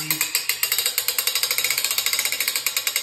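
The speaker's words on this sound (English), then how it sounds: "a tube that comes up with a boat crank" A boat crank winch ratchets steadily as it lifts the back of a 2021 Ski-Doo 850 Turbo snowmobile, a close, loud run of rapid metallic clicks from start to finish.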